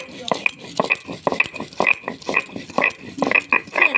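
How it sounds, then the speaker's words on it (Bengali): Mustard seeds and green chilli being ground on a small shil stone, a steady back-and-forth grating and scraping with a rhythmic stroke about twice per second, close and loud. "ভালো করে এটাকে মিহি করে বেটে নেব।"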